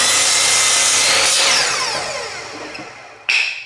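Wood cut along a marked line while building a Scandinavian-style trestle stand, a loud, close rasping saw stroke that slowly fades, followed by a short sharp burst near the end.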